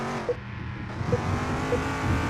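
A race car in a video game accelerates with a steady, droning engine note and rising revs, a few brief chirps and bumps breaking through the continuous roar.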